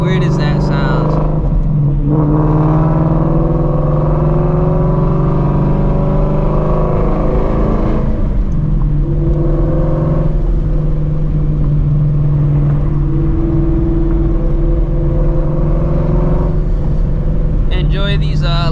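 A Shelby GT350 Mustang cruising on a night drive, its engine a steady, close low drone with gentle swells in pitch as the revs shift, heard from inside the cabin.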